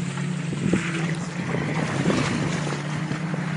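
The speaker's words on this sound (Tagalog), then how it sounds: "So medyo maingay lang, maraming dumatang bangkaho dito." Several boats arriving at a fishing spot on open water, a loud continuous engine drone with wind buffeting and splashing.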